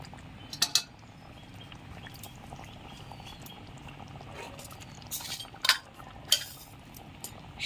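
Paneer simmers in a shahi paneer gravy, giving a soft, steady low bubbling close by, with a few sharp clinks of a utensil against the pot near the end and no talking.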